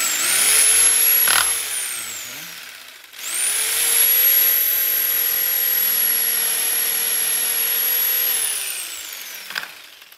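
A power tool saws through a metal hinge, running in two long, loud whining passes separated by a short pause, with a steady high-pitched tone and no talking over it.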